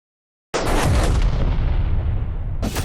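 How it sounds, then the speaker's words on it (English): A fortress wall blown apart in a large siege battle: after a brief silence, a sudden loud blast erupts and rolls on as a sustained, dense roar of debris and rumble, fading slightly before a sharp crackle near the end. "The wall explodes."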